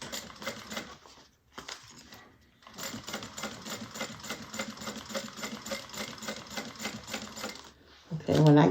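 Sewing machine top stitching along both sides of an opened, flattened seam, a fast steady mechanical whirring and clatter in several runs with short pauses, ending in a louder burst.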